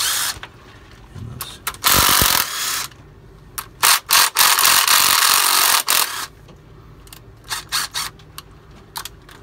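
Ratchet wrench loosening bolts during injector work on a Volvo D13 truck engine, giving bursts of rapid clicking and metallic clatter with several sharp knocks, close and fairly loud, with no speech.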